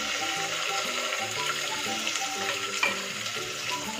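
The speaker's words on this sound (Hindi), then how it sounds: "इसको हम फ्राई कर लेते हैं हल्का गोल्डन होने तक" Onion fries in hot oil until golden for a kasuri methi dish, giving a dense continuous sizzle with a brief louder scrape or stir near the end, close and with no voices.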